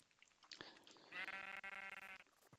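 A sheep bleats in the video game Minecraft, one drawn-out wavering cry following a few short clicks, clear and fairly close against a quiet background.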